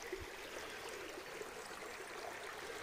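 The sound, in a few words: Szalajka mountain stream flowing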